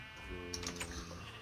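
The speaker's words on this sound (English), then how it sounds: "Oh look, he has another purple sheep." A sheep bleats in Minecraft, a short wavering cry near the middle, fairly faint and mixed with the quick clatter of computer keyboard typing.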